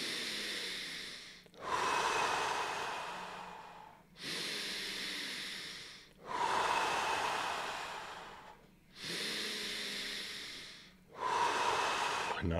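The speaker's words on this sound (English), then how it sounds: "Breathe in, out." Deep breathing for a breathwork exercise, with five long, loud breath cycles close to the mic, each a sustained rushing airy inhale or exhale, separated by short gaps, and no talk.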